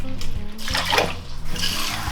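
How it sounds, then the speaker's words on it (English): Tap water runs steadily into a kitchen sink as a cup of quinoa is rinsed, a close, continuous splashing rush with no speech. "And we'll rinse this off under the tap."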